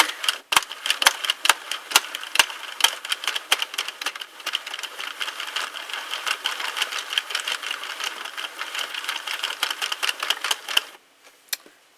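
A Sentro 32-needle knitting machine cranked by hand gives a dense, fast mechanical clatter of ticking needles, close and steady for about eleven seconds before stopping abruptly, with one last click near the end.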